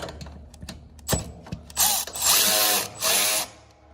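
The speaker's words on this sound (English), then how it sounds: "I'm gonna go ahead and take these bolts loose with my handy dandy ratchet here." A hand ratchet loosens the welded-stud battery hold-down bolts on a Gravely ZTHD mower: a few sharp clicks and knocks, then several bursts of fast ratcheting, close and fairly loud with no talking.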